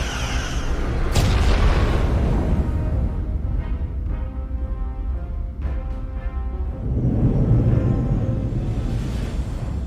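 Starship weapons fire in a Star Trek: Resurgence space battle, with heavy booming blasts and a sharp impact around the middle, over a rumbling, surging background.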